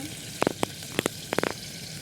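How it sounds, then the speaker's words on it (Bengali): Spices such as salt, chili powder, turmeric and coriander powder fry in a pan for a village-style Bangladeshi shapla and river puti fish curry, a soft steady sizzle broken by a few quick sharp crackles and taps, with no voices. "ধনিয়ার গুঁড়া দিয়ে ভালো করে কষিয়ে নিব"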